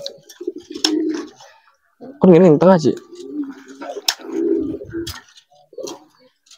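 Pigeons coo in soft, throaty bursts nearby, with a person speaking briefly between the calls and a few chirps in the background.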